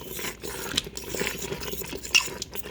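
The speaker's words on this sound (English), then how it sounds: "I'll keep stirring while it's hot just to keep it from sticking." Utensil scraping and clinking against the metal pot of an Instant Pot while stirring hot taco chicken mix, a steady close clatter with a few sharper clinks and no talking.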